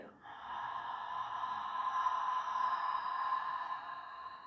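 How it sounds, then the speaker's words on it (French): A long, steady, breathy exhale through an open mouth, close and soft, rising slightly and holding for several seconds before tapering, with no talking over it. "Longue expire."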